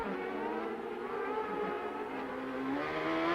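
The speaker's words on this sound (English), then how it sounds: "Now you hear him shift in there. He's never taking his foot off of the throttle." CART Indy-style race car at Cleveland in 1998, its engine screaming at full throttle with a steady high drone and a quick upshift near the end, loud and continuous with no talk.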